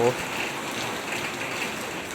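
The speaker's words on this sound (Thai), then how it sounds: "ฝนตก" Rain falling outdoors around a parked motorcycle, a steady dense hiss of drops at constant loudness throughout.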